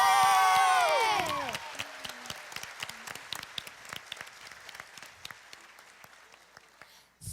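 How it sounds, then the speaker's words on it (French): Audience applause for contest participants, a dense burst of clapping and cheering that tapers into scattered claps over a few seconds, with a loud tonal musical sweep fading at the start. "Je vous demande de les applaudir chaleureusement pour cette participation exceptionnelle."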